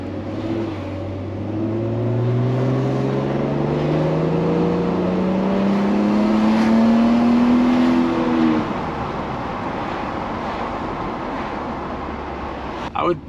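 A Mercedes W202 C36 AMG with its M104 engine and custom exhaust revs up close. The pitch climbs smoothly for about eight seconds, then drops back to a steady idle rumble.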